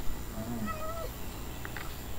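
A cat in the Minecraft video game meows a few times in short, clear, rising calls, followed by a couple of brief chirps, over a faint steady background hum.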